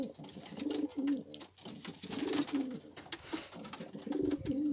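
Healthy pigeons in a loft cooing softly and repeatedly, several low burbling calls close by with brief pauses between them.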